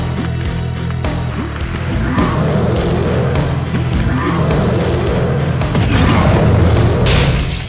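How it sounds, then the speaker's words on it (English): Dynamite blasts and exploding barrels in the video game Nightmare Creatures, a dense run of booming thuds over a steady low rumble of game music and ambience, loud throughout. "Just throw dynamite anywhere in the room, one of the barrels will explode and injure the Yeti."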